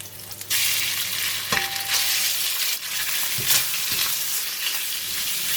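Pork hitting a hot pan with garlic and ginger for a black pepper stir fry, a loud, continuous close sizzle that bursts up suddenly and keeps hissing, with stirring scrapes.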